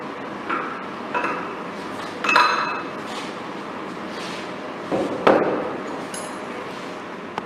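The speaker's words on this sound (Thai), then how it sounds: "ตอนถอด แหวนลอกออกนะครับ โดยใช้ แท่นทองเหลืองนะครับ แล้วก็ค้อน" A hammer strikes a brass drift to drive a retaining ring off a recirculating-ball steering gear: a handful of sharp metallic taps spaced irregularly over several seconds, close and moderately loud against a quiet workshop background.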